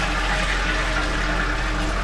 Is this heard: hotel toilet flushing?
yes